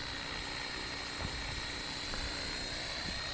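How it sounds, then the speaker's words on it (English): Blade Fusion 360 RC helicopter on a 3S battery hovering on its first flight, a steady close rotor whine and buzz that holds level throughout, with no voices. "Hover test is looking good."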